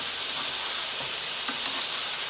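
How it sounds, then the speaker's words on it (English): A ribeye in a tilted pan sizzles steadily while being basted with melted butter, garlic and thyme, a constant bright hiss with faint stirring clicks, close to the microphone. "you're gonna lean the pan, and then you're gonna just baste the steak with the butter"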